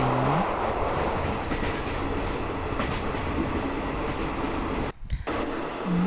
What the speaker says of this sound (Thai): ขอถ่ายเก็บบรรยากาศบนรถไฟนิดนึง